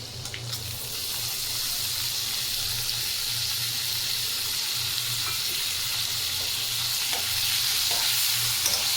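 Tomato curry fries and sizzles in a pan under a steady stir, with a constant loud hiss and a low rumble beneath it, uninterrupted for the whole stretch.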